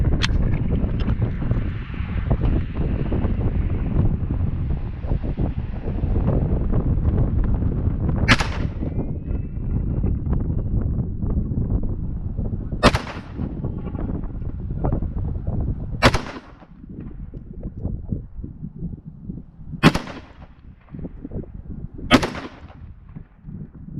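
A Century Arms Fishka AK-47 rifle in 7.62x39 with a bakelite-style magazine fires outdoors, five sharp, spaced reports cracking over steady wind rumble, each shot trailing a short echo.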